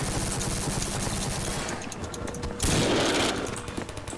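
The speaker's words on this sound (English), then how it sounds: "this SMG sucks" Video game submachine gun fire in long sustained bursts that sound loud and close, briefly pausing, then resuming in a harsh rattling stream, with no talk.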